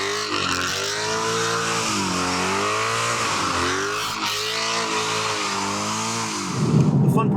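A rare Mercedes CLK 63 V8 accelerates hard on empty streets, its engine note rising and falling through gear changes with a loud, sustained roar close by, ending in a rougher burst of revs.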